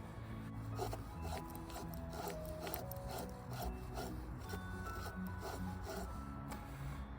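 A kukri blade scraping shavings from a battened piece of pine in a steady rasping rhythm of repeated strokes, close and alone.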